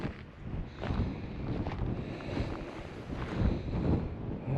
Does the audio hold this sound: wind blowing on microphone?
yes